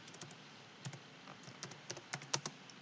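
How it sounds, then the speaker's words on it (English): Typing on a computer keyboard while entering text in a content management system, quiet irregular key clicks at a relaxed pace, close up with no talking. "let's type something"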